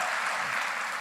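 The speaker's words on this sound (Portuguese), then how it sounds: "E uma salva de palmas para esse casal" A church congregation at a family service bursts into a steady wash of dense applause for a missionary couple, continuous and fairly full with no talking over it.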